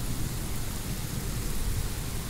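Continuous heavy rain in Uttar Pradesh pouring down in a thick, even hiss, with a low rumbling undertone throughout and no speech.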